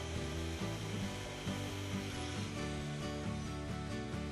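A Festool TS 75 EQ plunge-cut circular saw makes a loud, steady motor whine while cutting wood, sustained for about four seconds with a slight shift in tone partway through.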